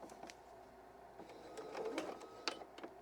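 A sewing machine backstitches along a fabric edge, making faint, quiet mechanical clicks and a soft stitching whir in short bursts.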